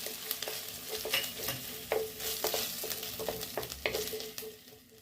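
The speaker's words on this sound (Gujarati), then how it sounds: "બે લીલા મરચાંના ટુકડા છે તે નાખીશું." Green chili pieces fry in hot oil with ginger paste for a samosa filling: a soft sizzle broken by frequent sharp pops and crackles, fading toward the end.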